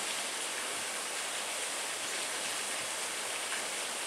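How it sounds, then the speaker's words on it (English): A small waterfall rushes close by in a constant bright, hissing roar that never lets up. "That noisy little waterfall again"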